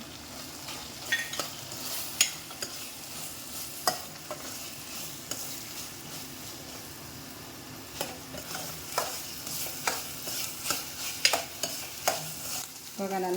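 Bitter gourd palya with grated coconut fries in a pan, with a soft sizzle under repeated sharp scrapes and clacks of a spoon stirring at an irregular pace; a voice speaks briefly.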